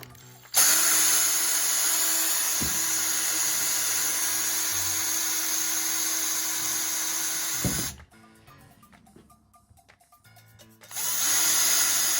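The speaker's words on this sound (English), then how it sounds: "drill 4 holes along the line now before it goes up" A power drill whines steadily at high speed while drilling holes in wood, running loud for several seconds, stopping briefly with a quieter gap and a few clicks, then starting up again.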